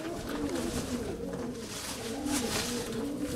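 Pigeons coo softly in a loft, low murmuring calls overlapping steadily throughout with a faint background hiss.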